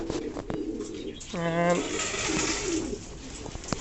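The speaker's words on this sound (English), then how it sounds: "All my pigeons are here" Pigeons coo together in a ventilated breeding loft, with a distinct stacked coo in the middle over a busy background of soft calls and rustling, while someone talks briefly.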